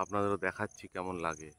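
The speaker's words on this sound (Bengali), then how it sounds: "ঝিঝি পোকা।" A steady, faint, high cricket trill continues beneath a man's close speech on a quiet morning in Bengal village fields.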